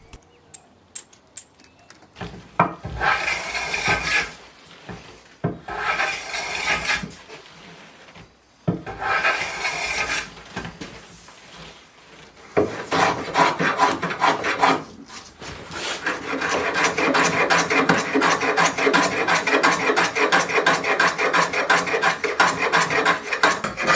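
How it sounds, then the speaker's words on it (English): Light hand sanding of wooden sawhorses to knock off sharp corners and edges, heard as rough rasping strokes in short bursts at first, then a long steady run of fast scrubbing close by. "A little bit of a light sand, just take off the sharp corners and such"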